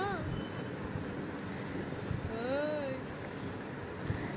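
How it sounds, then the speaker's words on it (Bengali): Sea breeze blows across a hotel balcony overlooking the ocean at Puri, a steady wind rush buffeting the microphone over a low surf wash, with a brief rising whistle partway through. "বারান্দা থেকে যতদূর চোখ যায় আপনার সমুদ্রই দেখা যায়, আর তার সাথে হাওয়াও দেয় খুব সুন্দর"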